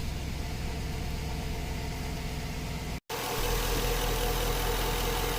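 Steady idle of a 2008 Jeep Grand Cherokee 5.7-liter Hemi V8 that had misfires on cylinders 4, 6 and 7, a constant close engine rumble with a brief dropout near the middle and no talking.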